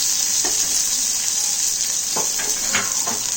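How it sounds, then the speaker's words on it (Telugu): Onion slices frying in a pan over a low flame give a steady, loud sizzle close by, with a few soft stirring scrapes, while making papaya curry. "స్టవ్ సిమ్లోనే పెట్టుకొని వేయించుకుంటున్నాను నేను కూడా"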